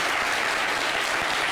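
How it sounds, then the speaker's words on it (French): Studio audience applauds a guest on a French-language TV talk show set, a dense, steady wash of clapping filling the short moment with no voices over it. "Applaudissez pour ce monsieur."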